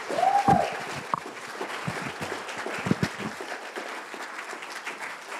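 An audience applauds to welcome author Annabelle Gurwitch at a writers' festival event, a dense burst of clapping that swells at the start and then gradually thins and fades over a few seconds.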